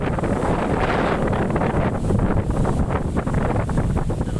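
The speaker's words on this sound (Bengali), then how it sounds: "কি পরিমাণের বাতাসের বেগ দেখেন," Strong cyclone wind roars steadily and loudly throughout, buffeting the microphone with heavy low rumble and gusty surges, with no voices.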